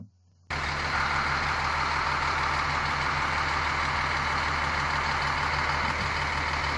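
A Scania K 340 diesel engine in a Marcopolo Paradiso G6 1200 coach bus starts up after a brief silence, then runs steadily at a loud, close, even idle with a constant low drone and no talk.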